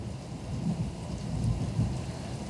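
A thunderstorm with rain in Jakarta gives a steady low rumble of thunder under a constant hiss of rainfall, heard from indoors with no voices.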